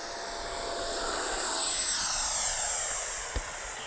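An FMS F-86 Sabre 80mm radio-controlled jet takes off, a steady rushing whine that swells and then fades slightly as it climbs away, heard from a moderate distance with no voices.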